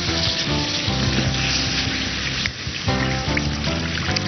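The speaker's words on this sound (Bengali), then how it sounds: "এবার জল দিতে হবে" Water pours into a cooking pot of chicken for Awadhi murg, making a steady splashing and sizzling wash that is close and loud, with background music running throughout.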